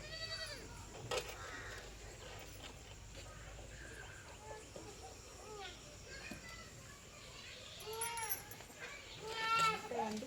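A young goat kid bleats in short wavering cries on a farm, several calls spread over the clip and louder near the end, with people talking and children's voices around it.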